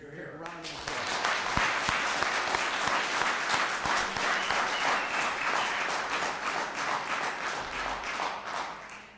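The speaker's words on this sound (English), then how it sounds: "Please, just a round of applause." A round of applause at a Common Council meeting, steady dense clapping from the room after a brief voice at the start, sustained evenly and tapering slightly at the close.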